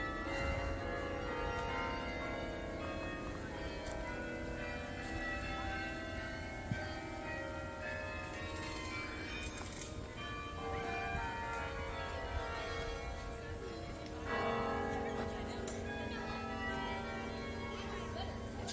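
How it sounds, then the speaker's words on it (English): Carillon bells at Bok Tower Gardens ring out a slow, resonant melody, overlapping tones sustaining and blending in open garden air, with faint voices nearby. "Just want you guys to be able to hear the bells and their beautiful songs."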